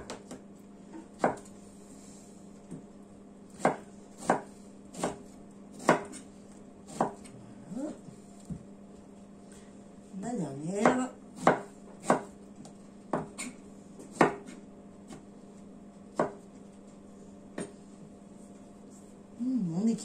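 A knife chops fruit for a homemade fruit salad on a cutting board, giving sharp, distinct thuds at a loose, irregular pace with a quicker flurry midway, close and clear over a quiet room hum.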